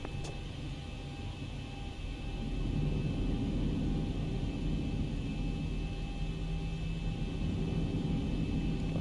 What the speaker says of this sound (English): Clear for takeoff, one nine right, Scandinavian 258